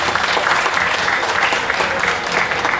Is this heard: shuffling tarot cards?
no